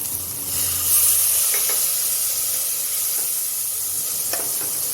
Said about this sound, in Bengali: বাটি দিয়ে একটু জল দিয়ে